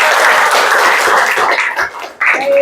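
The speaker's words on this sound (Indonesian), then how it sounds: "Tepuk tangan untuk" Schoolchildren clap together in a classroom, a dense burst of applause that thins out briefly before a second round starts up.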